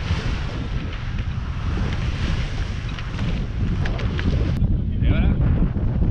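Strong wind roars steadily across the microphone aboard a sailboat in rough seas, with rushing water and spray beneath a continuous loud buffeting.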